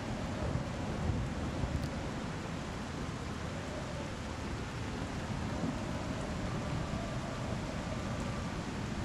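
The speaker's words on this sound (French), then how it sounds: "Ça va, le vent, la mer." Steady wind and sea ambience from the video game Wartales, a continuous broadband rush of gusting air and surf with no distinct breaks, moderately loud and alone throughout.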